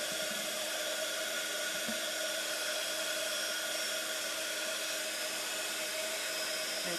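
A dryer blows continuously to dry a craft flower being transformed into a butterfly, giving a steady, even whine with no pauses.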